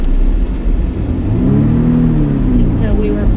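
A BMW car drifts, its engine revving with a rising and falling whine under a close, steady road rumble while people talk over it.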